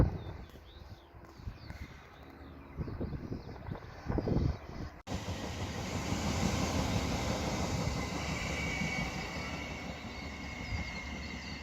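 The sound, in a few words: train passing on railway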